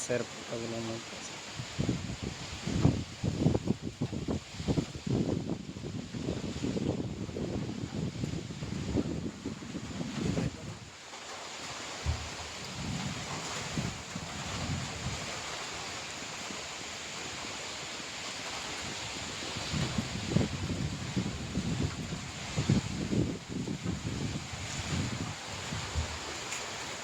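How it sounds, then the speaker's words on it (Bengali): Kalbaishakhi storm wind sweeps through tree leaves in rising and falling gusts, a broad rushing rustle that swells loudly, eases briefly, then builds again. "কালবৈশাখী ঝড়ের হাওয়া বইছে,"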